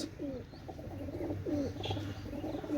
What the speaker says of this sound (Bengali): এটা হচ্ছে পাকিস্তানের শিয়ালকুঠি কবুতর